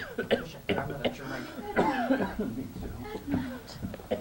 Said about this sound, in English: You mustn't cough like that.